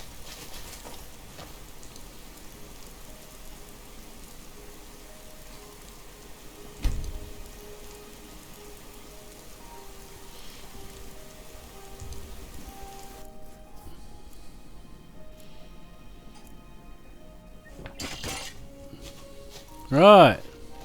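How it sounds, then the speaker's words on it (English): Steady rain patter in the video game Skyrim fills the background with a low continuous hiss, broken by a few brief thuds and a sharper rising tone near the end. "Maybe we can wait out the rain in here."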